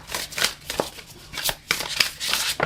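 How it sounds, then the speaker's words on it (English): A deck of tarot cards is shuffled by hand, giving a run of crisp riffling and slapping bursts at an uneven rhythm, close and fairly quiet, with no voices. "And you guys saw me shuffling."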